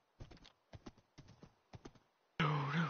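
Hooves of a Minecraft horse clop in brisk uneven pairs, soft and fairly close, for a couple of seconds before a loud burst of sound cuts in.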